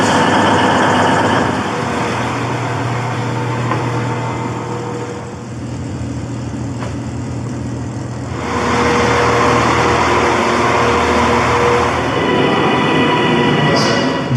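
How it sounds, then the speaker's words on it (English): TransPennine Express train to Glasgow Central running, a loud steady rumble and roar of the carriage interior that dips in the middle and swells again. "This is a TransPennine Express service to Glasgow Central."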